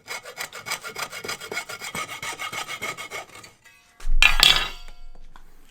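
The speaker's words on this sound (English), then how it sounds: "I can slowly saw through the cable as well." Electrical cable clamped in a vise is sawn by hand with rapid, even back-and-forth rasping strokes, close and clear, then a short pause and a louder clattering burst near the end.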